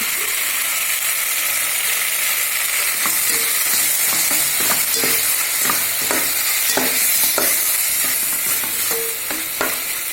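Ginger, garlic, cumin and pepper sautéing in hot oil for chicken kulambu, a loud continuous sizzle close up, broken by repeated scraping and tapping strokes of a spoon against the pan.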